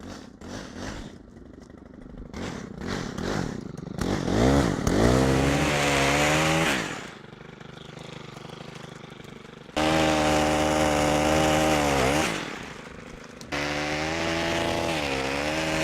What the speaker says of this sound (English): we will be using an extendable chainsaw pruner